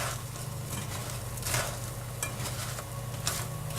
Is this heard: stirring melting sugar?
yes